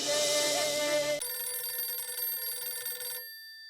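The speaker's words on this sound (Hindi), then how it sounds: "अरे, हिंद माता वाले मेहमान का फोन।" Telephone ringing in a home scene from a sitcom, a steady electronic ring with tonal harmonics that holds loud for about three seconds and then cuts off into silence.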